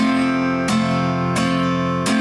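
Three bright guitar strums of an F bar chord ring out at a steady, even pace, each full chord sustaining loudly until the next strike; no voices.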